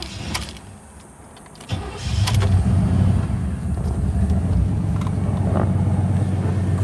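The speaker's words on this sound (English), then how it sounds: "Great pipes on this car." A 1989 Pontiac Trans Am built as a Ferrari Testarossa replica starts and settles into a steady, deep idle rumbling through the exhaust pipes, close by, with a few clicks before it catches.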